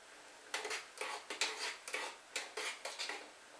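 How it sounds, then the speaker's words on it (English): Oatmeal stirred into boiling water in a small pot over an alcohol stove, about a dozen quick scraping strokes in an uneven rhythm, close and fairly faint, with no talk. "I'm going to slowly mix that in."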